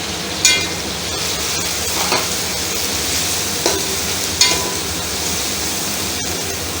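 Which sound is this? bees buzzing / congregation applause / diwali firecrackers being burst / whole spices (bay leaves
whole spices (bay leaves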